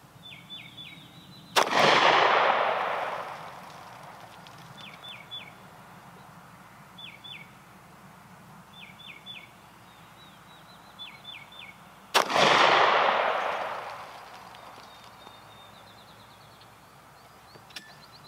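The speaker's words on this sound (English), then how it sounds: "I'm going to take a few more shots at one of the other targets" Two loud, sharp pistol shots from a Smith & Wesson Tactical 45 fired at a target on an outdoor range, each with a long decaying echo, spaced about ten seconds apart, with faint bird chirps in the quiet between.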